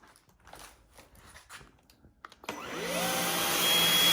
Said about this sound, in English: we'll see how good this thing cleans on these carpets and then the concrete